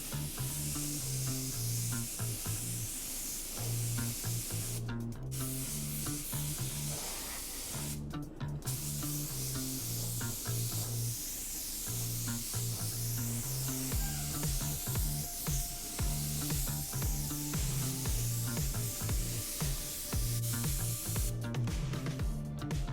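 A paint spray gun lays a full second coat of Ultra BC8 CC 2020 clear coat, mixed with UH80 hardener and reducer, over metallic automotive paint, producing a steady close hiss broken by a few brief trigger pauses.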